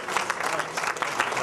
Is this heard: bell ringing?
no